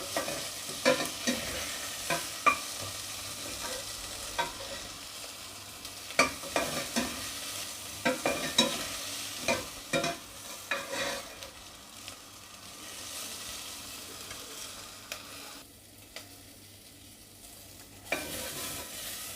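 Onions fry in oil for a Sindhi lotus root dish, with a continuous sizzle and frequent irregular scrapes and knocks of a spoon stirring the pan, the hiss easing slightly toward the end.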